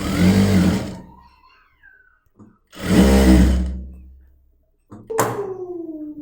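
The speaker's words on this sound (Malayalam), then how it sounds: "റേഞ്ചിൽ അങ്ങോട്ട് സ്റ്റിച്ച് ചെയ്തെടുക്കാം." A sewing machine stitching the hem of an old bedsheet being remade with large pleats, running in two loud close bursts separated by quiet pauses, followed by a sharp clunk and a trailing tone.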